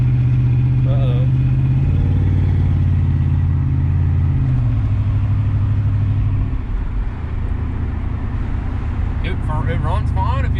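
A 1993 Chevrolet Caprice wagon engine running loud and close, its pitch stepping up and down as the throttle is held, with a person's voice over it.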